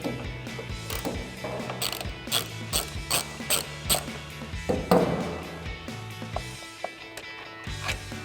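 A 3/8 ratchet with a Torx bit backs out tail light bolts on a 2014-2021 Toyota Tundra, making steady, rhythmic close-up clicking in repeated strokes with a brief clunk midway.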